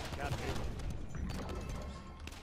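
Androxus firing shots in the hero shooter Paladins Strike, a muffled run of quick blasts blended into busy game noise, fairly faint and steady.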